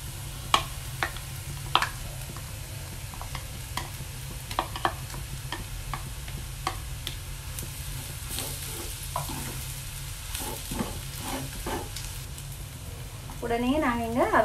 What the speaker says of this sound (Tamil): நான் இந்த செமண்டில் போட போகிறேன் டின் ஃபிஷ்ஷை.